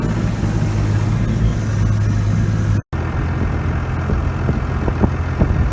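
A tractor fitted with a snow blade idles in the snow, a steady low engine rumble that runs close and loud throughout, broken by one abrupt split-second dropout midway.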